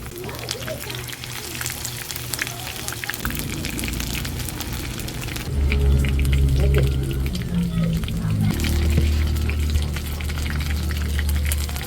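Telescope shell fritters (ukoy na bagungon) frying in hot oil, a dense crackling sizzle that grows heavier and louder partway through as more batter goes into the pan, with a voice speaking faintly underneath.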